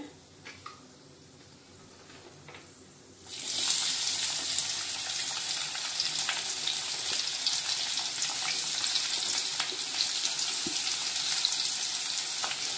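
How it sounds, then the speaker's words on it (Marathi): Onion dropped into hot oil with toasted mustard seeds and cumin for Maharashtrian zunka sets off a sudden loud sizzle after a quiet moment of faint crackling, then a steady close frying hiss with small pops. "मोहरी जिरे आपले भाजलेले आहेत। आपण आता त्याच्यामध्ये कांदा टाकूया।"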